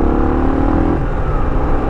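A Kawasaki KLR650 single-cylinder motorcycle, its carburetor just rebuilt, runs in second gear at about 2000 RPM, producing a loud, steady low engine drone with wind rumble throughout the short stretch.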